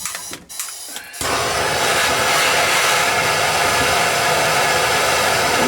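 A torch flame heating a drain pipe fitting: after a second of quiet handling clicks, a loud, steady roaring hiss starts and holds evenly close by.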